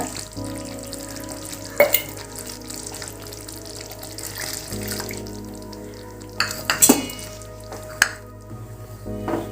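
Salna gravy with ground coconut paste and water bubbling in a pan on the stove, a steady soft simmering hiss broken by a few sharp clinks of a utensil against the pan.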